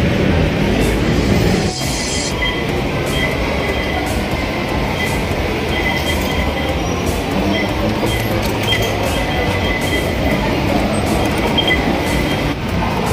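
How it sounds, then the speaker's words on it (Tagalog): Steady loud rumble of an MRT commuter train in Manila during a ride toward Trinoma, with continuous rolling wheel and car noise and a brief clatter early on, no voices. "So ayan, pasakay na kami ng MRT papuntang Trinoma."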